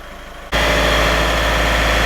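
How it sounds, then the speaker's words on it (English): A diesel engine on a DPF cleaning job jumps from a quiet idle to a steady 1500 RPM after about half a second. The engine then holds a loud, even drone with a strong low rumble and vibration. "So I'm now going to increase engine RPM to 1500 RPM"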